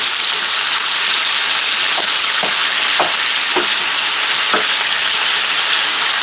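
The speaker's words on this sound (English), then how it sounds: "brown the meat" Meat browns in a pot, a loud, dense sizzle that runs continuously, with a few sharp stirring clacks scattered through, close by and without speech.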